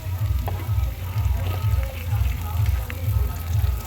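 Onions frying in a pan with a soft sizzle and occasional stirring, under a strong, rhythmic low hum that pulses throughout.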